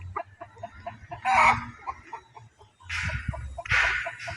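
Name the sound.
chickens clucking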